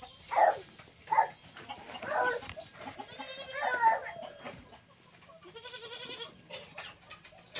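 Goats and young kids on a goat farm during nursing, with repeated close bleats, some short and some drawn out, over quiet barn background and occasional rustling.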